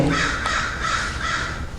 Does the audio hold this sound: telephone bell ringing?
no